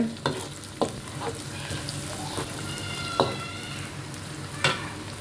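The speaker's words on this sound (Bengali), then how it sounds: "এখানে আমি রোস্টের জন্য মশলাটা কষিয়ে নিচ্ছি" Spice masala for a roast sautéing in a pan, a continuous sizzle broken by repeated scraping and clacking strokes of a stirring spoon against the metal, close and fairly loud, with no voices.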